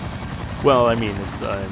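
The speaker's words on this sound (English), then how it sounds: "Oh, there is a second helicopter!" A helicopter in the video game Resident Evil 2 drones with a steady low rotor rumble under someone talking loudly over it.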